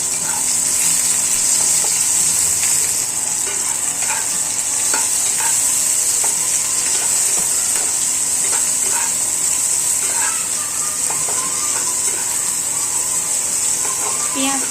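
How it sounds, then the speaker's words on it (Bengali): Onions fry in hot oil with cumin and whole garam masala for palak paneer, giving a loud, unbroken sizzle close up, dotted with light stirring clicks throughout. "প্রথমে ওই তেলেতে জিরে দিয়ে দেবো, একটু গোটা গরম মশলা দিয়ে দেবো, তারপরে পেঁয়াজগুলো দিয়ে দেবো।"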